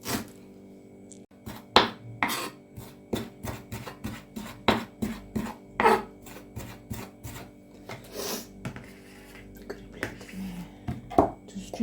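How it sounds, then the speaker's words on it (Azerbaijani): A knife chops a small amount of coriander and parsley on a board in a home kitchen, with irregular sharp taps in quick bursts, close and clear against a quiet background. "Və indi bunları xırda doğrayacağam."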